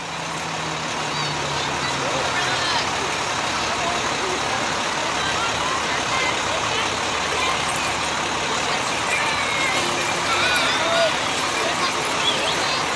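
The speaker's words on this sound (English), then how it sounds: "This is a hydraulic ladder truck." A fire department hydraulic ladder truck with a rear turntable sits with its engine running steadily, giving a continuous broadband rumble with no pauses.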